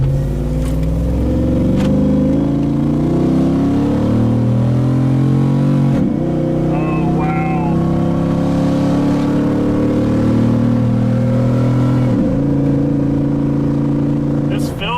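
A Jeep JK fitted with a 500 HP HEMI engine revs and pulls on a test drive, a loud, deep engine drone rising and falling from inside the cabin, with people talking over it.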